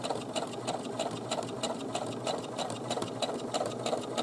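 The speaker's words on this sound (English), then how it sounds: "And then I'm going to just stitch straight up to the top." Steady, fast sewing machine stitching straight up a shorts fly seam, an even rapid mechanical patter that runs continuously, close and moderately loud with no talking.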